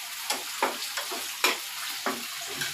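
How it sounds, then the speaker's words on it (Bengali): Onion sizzles in hot oil in a pan, being fried for a mola fish and helencha greens bharta. A steady soft frying hiss is broken by periodic scraping stir strokes. "তার জন্য আমি একটু ভেজে ভেজে নেব।"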